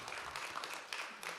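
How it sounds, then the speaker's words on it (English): A church audience at a mental health panel gives a short burst of applause, a dense patter of many hands clapping at moderate distance. "would you just clap for them?"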